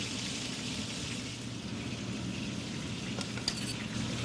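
Beans and pancetta frying in butter in an outdoor kitchen, a steady low sizzle and crackle running the whole time with a few faint clinks of utensils near the end.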